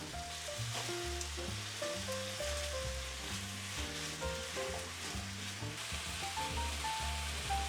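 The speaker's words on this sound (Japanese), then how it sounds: "ごま油を少しひいて炒めます。 ある程度火が通ったら根菜を追加。" Root vegetables stir-fried in a little sesame oil in a pan, a steady close sizzle with frying crackle running throughout, under a gentle repeating musical backing and no speech.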